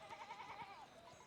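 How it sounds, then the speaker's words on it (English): A sheep bleats in the video game Pentiment, one short, wavering cry that is faint and fairly distant. "Oh, so many sheep"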